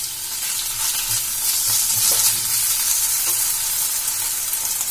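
Grated potato and ginger stir-fry in a pan for a snack made from leftover idli, giving a continuous bright sizzle with a few soft stirring scrapes, close and steady, no voices.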